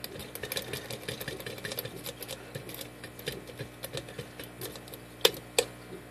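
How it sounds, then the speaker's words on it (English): A worm rake is worked into a five-pin laminated 40mm RONKO padlock, producing rapid, close metallic clicking and scratching with a sharper snap near the end. "rake it open with a worm rake"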